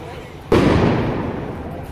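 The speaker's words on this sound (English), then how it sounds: "Flashbangs." A single sharp flashbang blast bursts out at a street protest, loud and close, its roar decaying over the next second and a half.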